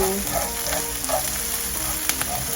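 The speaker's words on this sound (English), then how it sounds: "watch these onions so they don't start burning" Onions sizzling and frying in a pan over medium heat, a steady close crackle with soft stirring clicks and scrapes, no talking.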